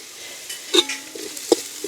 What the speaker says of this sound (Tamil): வெங்காயம் பச்சை மிளகாய் எல்லாம் எங்களுக்கு வதங்கிட்டுது அதோட வந்து நாங்கள் இடித்து வச்சிருக்கிற உள்ளி இஞ்சி மிளகையும் சேர்த்துக்கொள்ளுவோம்